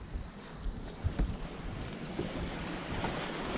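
Waves wash against a sailboat hull on Lake Michigan, a steady broadband rush mixed with wind buffeting the microphone, with a few heavier splashes near the middle and no voices.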